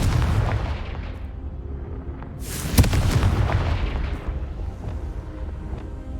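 A Confringo blasting spell from the Hogwarts Legacy video game goes off as a sharp, booming explosion near the three-second mark, cutting through steady background rumble and fading into a rolling tail.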